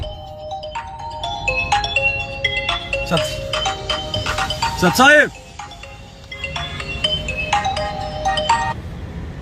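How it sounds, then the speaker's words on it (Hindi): A phone's electronic melody ringtone plays loudly for an incoming call, repeating its tune throughout, while a person talks over it briefly in the middle. "टाटा वाले का फोन आ रहा है, उठाओ"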